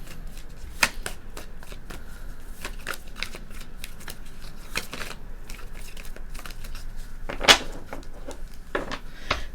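Native American tarot cards are shuffled close by in a quiet room. Crisp flapping riffles and soft taps come in irregular bursts, with one sharper clack near the end.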